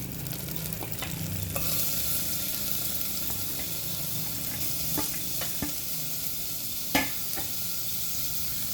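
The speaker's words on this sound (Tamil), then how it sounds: "அதே குக்கரில் கொஞ்சமாக எண்ணெய் விட்டுட்டு கட் பண்ணி வச்சுருக்கிற வெங்காயத்தை அதில் சேர்க்கணும்" Chopped onions frying in a little oil in a pressure cooker, a continuous close hiss with occasional scrapes and clinks of stirring.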